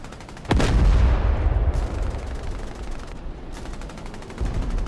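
Heavy tank cannon blasts and dense gunfire from a D-Day Omaha Beach assault in the DCS World flight simulator, opening with a loud boom followed by sustained, close, rolling bursts of fire.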